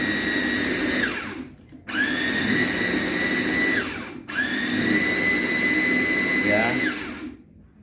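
An electric chopper whirs in three bursts as it blends honey with garlic, each a high motor whine that starts, holds several seconds and cuts off, with brief pauses between; a voice speaks briefly.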